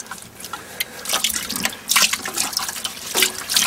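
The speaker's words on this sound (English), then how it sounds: "How about one more rinse with just water" Tap water rinsing glycerin off a surface, close splashing and dripping that swells and fades in uneven bursts, loud and alone.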